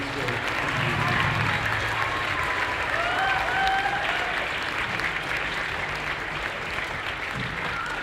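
A sustained round of applause fills a school Veterans Day assembly hall, a large crowd clapping in a steady wash with murmuring voices underneath and a brief squeal near the middle.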